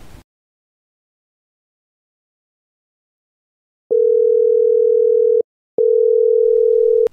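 A telephone gives out a steady, loud single-pitch dial tone while a call is being placed. It sounds in two long unbroken stretches separated by a short gap, after several seconds of near silence.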